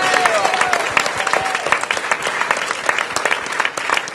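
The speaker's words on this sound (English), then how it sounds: "please give him a big round of applause" Audience applause at a Washington, DC summer reading and fitness event, honoring DC United goalkeeper Bill Hamid: dense, steady clapping from a crowd close by, sustained throughout with a brief voice early on.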